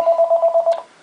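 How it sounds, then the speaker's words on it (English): A telephone rings in a workshop partway through disassembling a CZ vz. 82 pistol, giving one close, loud burst of rapid, evenly pulsed electronic trilling that stops abruptly, with no voices. "Hold on, I apologize for the phone."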